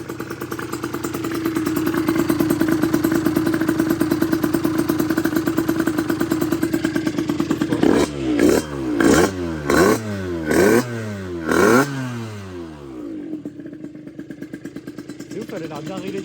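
Derbi motorcycle with an 80cc kit and BRK exhaust ticking over at a steady, even idle, then several sharp throttle blips before the engine cuts out to near silence.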